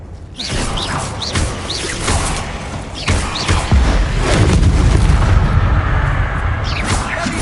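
Blasting-spell explosions and magical combat effects from the Hogwarts Legacy video game, a dense run of booms, whooshes and thuds that build into a loud sustained rumble.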